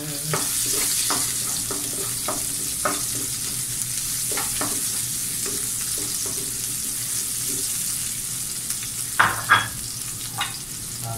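Garlic and onion sautéing in a pan give a steady, close, loud sizzle throughout, broken by a few scraping stirs and clinks of a utensil near the end.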